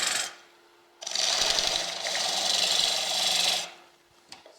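Wood lathe spinning a natural-edge basswood bowl blank that rattles slightly loose, a steady close whirring scrape lasting a few seconds before it fades, without speech.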